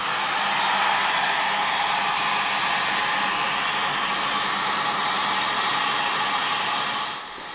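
Heat tool blasting hot air onto polystyrene foam terrain, a loud, steady, close rushing whoosh that holds constant for several seconds before cutting off abruptly at the end.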